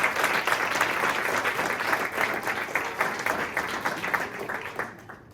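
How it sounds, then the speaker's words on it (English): An audience at a storytelling training session claps in sustained applause, dense and moderately loud, easing off and fading out over the final second. "Big round of applause for David."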